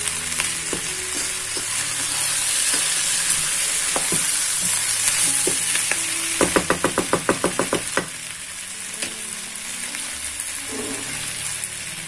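Vegetables for soup sautéing in a pan, a continuous close sizzle with scattered crackles and a brief run of rapid rhythmic clicks midway as they are stirred.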